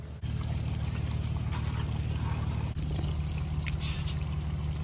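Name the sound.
water leaking from irrigation pivot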